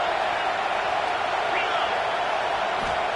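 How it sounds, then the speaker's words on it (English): Stadium crowd roaring steadily through a football game's opening drive on third down, a dense continuous wash of noise at constant loudness with a commentator speaking over it. "This crowd trying to make life miserable for this offense."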